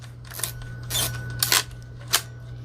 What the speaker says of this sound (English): advance the film first